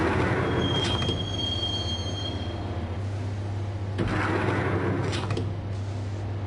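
A subway train riding in the video game Max Payne: a loud, continuous rumble of rails with a low steady hum, a thin squealing tone early on, and bursts of wheel clatter.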